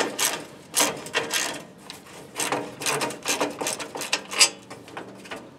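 Wrench ratcheting out a half-inch bolt from the side panel of a Kubota L2350 tractor, a series of close, uneven metallic clicks and scrapes in short bursts.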